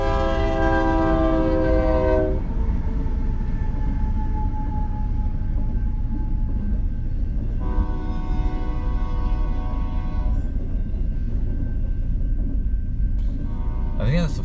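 A big train passes a railroad crossing with a heavy, constant rumble. Its horn blasts loudly at the start and again partway through, and people talk under the noise.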